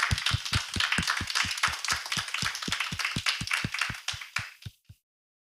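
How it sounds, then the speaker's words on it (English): An assembly audience at a primary school claps in a steady, even rhythm, the close, sharp claps slowing slightly before stopping abruptly. "we have to start with a round of applause again for all of our yaps"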